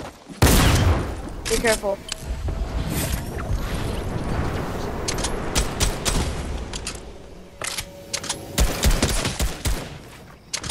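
Drum gun gunfire in the Fortnite video game, several rapid bursts and clusters of sharp shots, some close and loud, mixed with in-game effects and a player talking.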